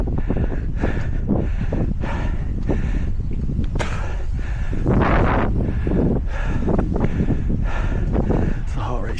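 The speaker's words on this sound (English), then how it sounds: "That wind is brutal coming that way." Strong wind buffets the microphone of a runner outdoors, a loud, continuous roar broken by repeated gusting bursts throughout.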